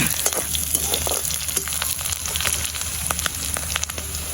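Tomatoes go into a hot frying pan of prawn curry, giving a steady, close sizzle with scattered pops and crackles that continue unbroken.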